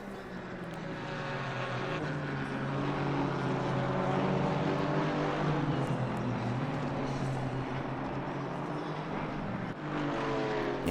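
Porsche GT4 race car at Donington Park, an engine droning loudly and steadily as it passes, rising and falling slightly in pitch with other traffic noise.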